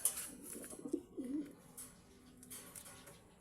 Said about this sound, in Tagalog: Si Venom at 9 na yung kalapati natin.